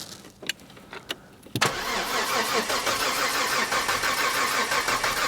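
A Ford Sierra 4x4 barn find is cranked with a few short clicks and a brief whirr, then the engine fires and settles into a steady, fairly loud running idle that fills the rest of the clip.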